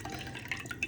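Water drips from a soaked crochet water balloon made of blanket yarn, a few small, close droplets falling in quick succession over a faint background hiss.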